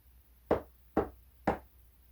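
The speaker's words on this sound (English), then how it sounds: "they strained their ears to hear the continued knocking against the wood" Three firm knocks strike a wooden door at an even half-second pace, close and dry, each a short hollow thud against a quiet background.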